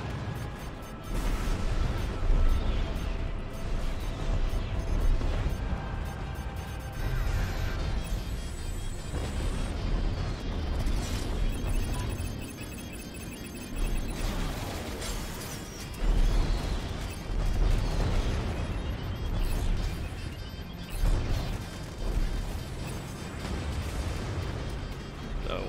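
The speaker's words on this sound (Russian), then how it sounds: "Да мы взрываем всякое." Explosions boom almost continuously in Strike Suit Zero, a space combat video game. The blasts rumble at steady loudness and overlap in a dense wash of noise.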